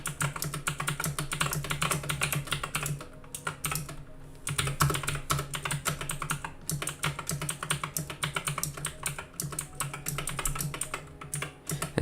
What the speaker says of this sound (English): We'll just keep typing messages.